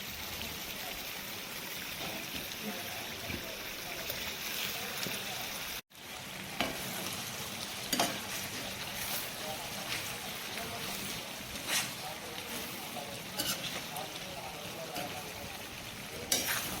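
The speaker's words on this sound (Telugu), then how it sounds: "చికెన్ని ఫ్రై చేసుకోవాలి" Masala-coated chicken fries in hot oil, a continuous loud sizzle and crackle close by with occasional stirring scrapes and pops and a brief cut midway.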